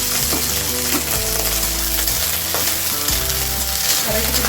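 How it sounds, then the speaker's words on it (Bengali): Washed green peas fry in mustard oil in a wok, a loud continuous sizzle with rhythmic stirring and scraping of the spatula, no voices. "এখন আমি ধুয়ে রাখা কড়াইশুঁটিগুলো দিয়ে ভেজে নেব।"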